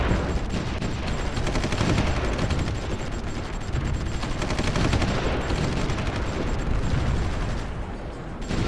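Artillery and gunfire rage in a battle in the strategy game Supreme Ruler Ultimate, a dense, continuous barrage of overlapping shots and blasts that stays loud throughout.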